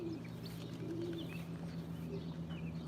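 Young racing pigeons coo softly at a loft in low, repeated murmuring calls, with faint chirps and rustling mixed in and no voices.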